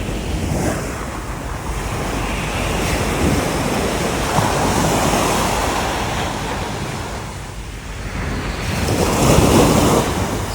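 Ocean waves wash onto San Narciso Beach at high tide, a steady broadband roar of surf with swells building and breaking, mixed with wind buffeting the microphone and no voices.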